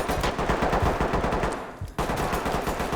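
Rapid automatic gunfire in the tactical shooter game Ready or Not, dense bursts of loud, close shots rattling continuously, with a brief gap before the firing resumes.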